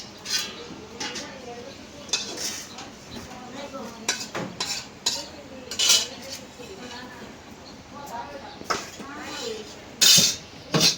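Rui fish fried in a pan on the stove: metal clinks, scrapes and stirring clatter come in bursts over a faint sizzle, with voices talking in the background.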